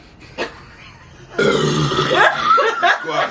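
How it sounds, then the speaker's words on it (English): A single loud, drawn-out burp sounds close by during a no-burping challenge, lasting nearly two seconds and wavering in pitch, after a brief soft noise and with no talk. "That was a burp."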